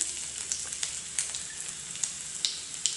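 Finely chopped ginger sizzles in hot oil in a pan while green chillies are fried, a steady bright hiss with small sharp pops and crackles at irregular intervals, close and alone.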